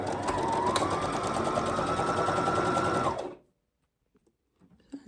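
A sewing machine runs steadily, stitching a zip-front peplum top with lining, for about three seconds before stopping abruptly, leaving near silence with a few faint handling sounds.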